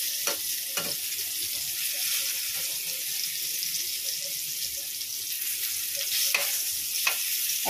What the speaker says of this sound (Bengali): দেখো তেলে আমি ফোড়ন দিয়ে দিলাম